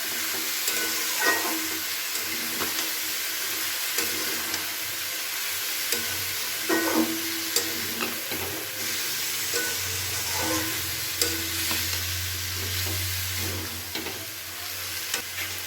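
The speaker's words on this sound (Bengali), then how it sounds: "দিয়ে এবার খুব ভালো করে এই মশলার সাথে মিশিয়ে নিতে হবে।" Banana flower, salted and turmeric-soaked, is stirred with spices in a frying pan for a vegetarian mochar ghonto, with steady loud sizzling and repeated scraping stirs throughout, alone.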